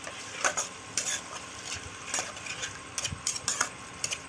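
Spice paste with turmeric and Kashmiri red chilli powder fries in a wok after a splash of water, a steady sizzle under repeated sharp scraping strokes of a spatula against the metal, close and clear, no voices.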